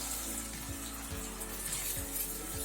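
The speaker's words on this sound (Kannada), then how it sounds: "ಸ್ವಲ್ಪ ನೀರು ಹಾಕ್ತಿದ್ದೀನಿ." A little water poured into a pan of frying masala and tomato for egg curry: a steady close rush of pouring liquid over a low sizzle, with a few soft knocks, no voices.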